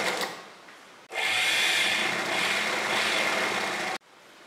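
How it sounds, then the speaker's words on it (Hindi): An electric sewing machine runs steadily for about three seconds while stitching piping onto the edge of a kurti's fabric, a continuous whirring hum that starts and stops abruptly, with quieter room sound before and after. "एकदम किनारे हम सिलाई लगाएंगे"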